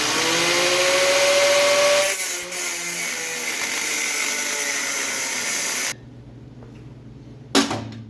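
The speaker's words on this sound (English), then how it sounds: "let's go ahead and get our cutoff wheel and cut a slit in that so we can remove the white pipe" A cutoff wheel slices a slit in a white pipe during transmission removal on a 2018 Chevrolet Suburban, a loud grinding whine that dips in pitch under load, then stops abruptly, followed by a short sharp crack.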